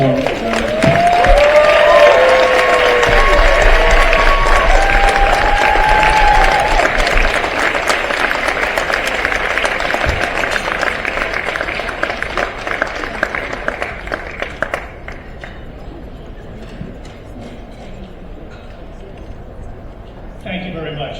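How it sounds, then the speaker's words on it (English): Warm applause for John Summers at a Champion for Children party, a loud, dense crowd clapping with a few whistles, gradually thinning and fading away toward the end. "help join me in giving John Summers a warm round of applause"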